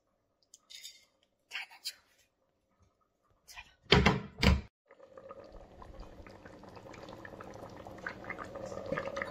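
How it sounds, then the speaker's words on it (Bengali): A pot of food heats on a home stove: a few sharp knocks and clatters come first, then a broad bubbling boil rises and grows steadily louder until the end. "ফুটুক, তারপরে এসে সিমে করে দেবো।"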